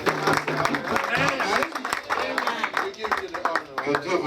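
Church congregation clapping and applauding during a Sunday worship service at Nazareth Church, a lively crowd of scattered hand claps mixed with voices and cheering throughout.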